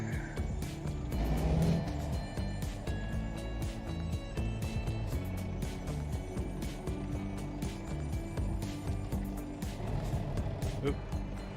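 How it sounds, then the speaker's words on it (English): A car passes close by a long-haul truck waiting at a gate, a broad road rush that swells early and then settles into steady engine and tire noise, with someone talking over it. "Wait for this car to go by."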